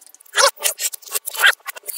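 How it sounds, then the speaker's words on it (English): Small Forbidden Island board game tiles are shuffled by hand on a table, producing close, dry bursts of rubbing and clacking in an irregular rhythm. "You gotta shuffle up these little bastards"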